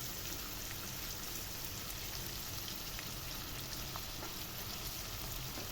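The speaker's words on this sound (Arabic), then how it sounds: "انا بحب اشوح البصل الاول" Onions sautéing in a cooking pan, giving a soft, steady, continuous sizzle with faint crackles and no talk over it.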